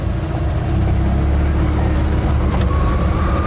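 An Invacar three-wheeler at the Shelsley Walsh hillclimb runs close up with a steady, buzzy engine drone as it is put into gear and pulls away, loud and continuous, a short click near the end.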